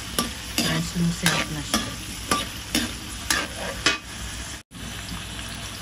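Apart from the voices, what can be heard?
stirring chicken afritada with bell pepper in pan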